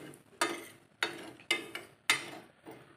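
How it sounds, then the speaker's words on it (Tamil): Dry semolina (rava) is stirred in a pan over a low flame for kesari: five or six short scraping strokes land at a slow, uneven rhythm, close and fairly quiet, with near silence between them. "சிம்மில் வச்சே நம்ம வறுத்துக்கலாம்."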